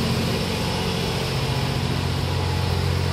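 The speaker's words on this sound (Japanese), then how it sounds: "実際の5号車、発電用エンジンがうなりを上げて、結構爆音です" Diesel generator engine in the power car of the SL Yamaguchi steam train roaring continuously, a loud, steady low drone with no break for the whole stretch.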